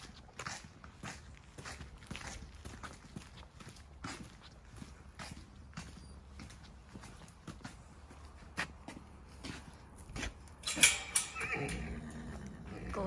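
Horses whinny and snort with hooves clopping on the ground, a loud neigh rising near the end amid scattered thuds and rustling.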